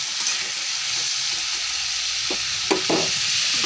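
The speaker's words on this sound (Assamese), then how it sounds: "অলপ সময় ভাজিব লাগিব।" Fish head frying in oil with turmeric and salt, a steady close sizzle with a few scraping stirs of the spatula against the pan.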